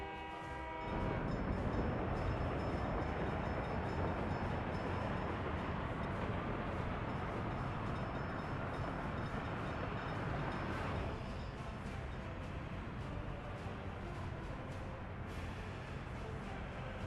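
A train rolls through a Workers & Resources: Soviet Republic game world, a loud, steady rumbling passage that fills the whole stretch, with a horn-like tone early on and a slight drop in intensity partway through.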